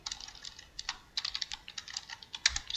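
Someone types a mount command into DOSBox on a computer keyboard, with quick, irregular clusters of crisp key clicks close by and short pauses between bursts, no voices.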